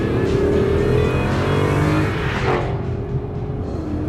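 An American V8 in a Chrysler 300 rumbles loud and close, its engine note rising and falling as it accelerates hard throughout, with no talk over it.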